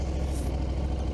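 A Husqvarna Norden 901 motorcycle engine running with a low, steady, somewhat flat rumble, close and continuous over a short stretch, no voices.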